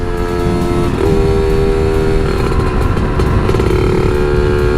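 KR motorcycles ride through heavy traffic, a loud close engine drone mixed with rushing wind noise and passing vehicles, continuous throughout with no speech.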